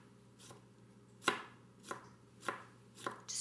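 A knife chops through raw broccoli stems on a board in five or six sharp, evenly spaced thuds, close and clear against a quiet room.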